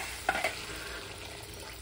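Oil sizzles softly in a pan after salt and turmeric are added, with two brief clinks of a utensil near the start over a constant low frying hiss.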